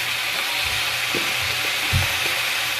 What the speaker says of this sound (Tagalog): Repolyo na gisado.